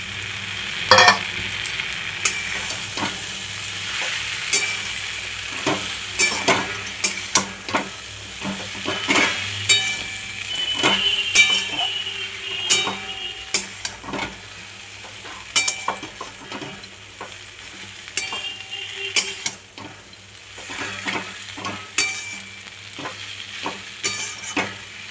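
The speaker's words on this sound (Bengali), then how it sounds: "এবার ভেজে রাখা মাছগুলো দিয়ে দেবো" Fried small fish tipped into a pan of frying potato and eggplant for a chorchori, with steady sizzling and repeated scraping stirs and clinks of a spatula, close and continuous without talk.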